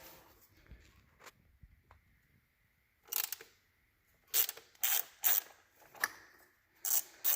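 An 8mm ratchet backs out the valve cover bolts on a Cummins engine. Sharp clicking bursts come in quick clusters after a quiet start, close and crisp, with no voices.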